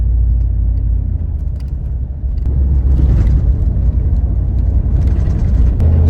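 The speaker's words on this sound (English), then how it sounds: "So we're on the freeway right now" Steady low road rumble from inside a car cruising on the freeway, its engine breathing through a homemade cold air intake; a continuous, loud drone with tyre and wind noise and no talking.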